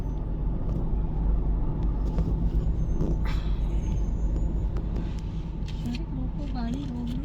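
Busy road traffic of cars and buses, a dense rumbling engine drone with occasional hissing brake bursts and a rising horn-like whine near the end, while people talk over the noise.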